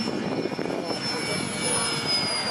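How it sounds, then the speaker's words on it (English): A model jet aircraft at a fly-in spools up its turbine engine, a steady broad whine with high tonal lines held throughout, mixed with outdoor crowd noise and some voices. "As you hear him spool up the engine."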